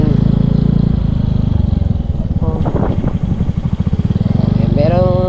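A motorcycle with a soft tire passing on a highway gives a close, steady, low engine drone throughout, rising slightly near the end, while a person talks over it.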